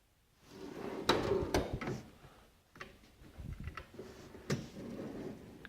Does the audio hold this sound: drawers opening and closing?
yes